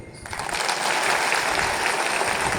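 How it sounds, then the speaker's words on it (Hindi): A school crowd at an Independence Day drill event breaks into dense, sustained clapping that swells within the first moment and stays loud and steady, heard up close. "एक बार आप ही आपकी लिए ताली बजाएं"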